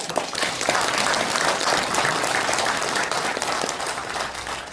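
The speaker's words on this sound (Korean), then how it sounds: "여러분 박수 빨리" Audience applause at a public briefing in Suncheon on Jeonnam–Gwangju integration, a dense, steady crowd clapping that stays loud and even throughout.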